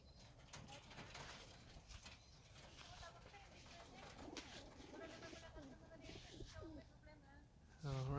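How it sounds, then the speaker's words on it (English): Pigeons in a loft holding nine old birds and twenty-three young birds: soft, steady cooing and bird calls with occasional wing flaps, faint and close, under a low background murmur and a voice. "I am going to let out 9 old birds and 23 young birds."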